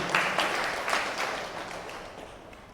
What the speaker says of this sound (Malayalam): കൈയടിച്ച് കർത്താൻ നന്ദി പറയാം